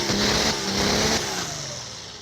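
A Cummins diesel truck engine revs hard at high speed off the limiter, holding a strained roar before the pitch gradually drops as it eases off.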